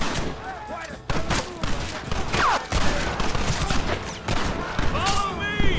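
Gunfire from the video game Red Dead Redemption crackles in a shootout during an assault on a gate, with rapid repeated rifle and pistol shots, whizzing ricochets and shouted voices mixed in.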